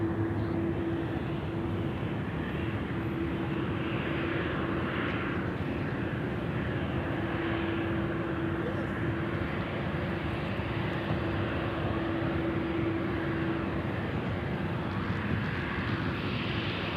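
An Embraer E190 airliner at Sydney Airport drones as a continuous jet engine roar with a steady hum that stays level, distant rather than close, and no one speaking.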